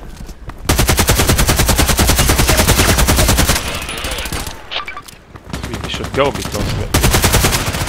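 AK-12 assault rifle firing in the shooter game Contract Wars: long rapid automatic bursts, loud and close, broken by a short pause, with a voice speaking briefly between them.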